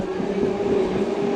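Onboard the Hubli–Guntakal MEMU as it arrives at Ballari Junction: a steady rolling rumble with a sustained tonal whine, moderately loud and continuous, with no talk.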